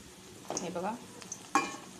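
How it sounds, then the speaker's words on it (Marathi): Bread pieces frying in a pan give soft sizzling and brief scraping stir sounds, a few quick clinks of a utensil against the pan, fairly faint and close. "सर्व ब्रेडचे तुकडे तळून घ्या।"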